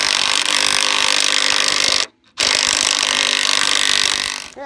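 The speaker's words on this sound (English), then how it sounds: "impact wrench and remove the bolts on the underside of this" An impact wrench removes 3/4 inch bolts from the underside of a 1976 Case 450 crawler, hammering loudly and continuously at close range, with one brief pause before it runs again.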